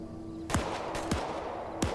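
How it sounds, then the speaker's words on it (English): Three sharp video game gunshots crack at uneven intervals, loud and close, with a steady background hum between them and no talk. "Hearing some more gunfire here."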